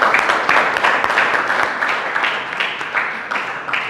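Audience at a Franciscan gathering on diversity and inclusion applauds warmly, a close, fairly loud round of clapping with uneven surges that gradually eases over a few seconds.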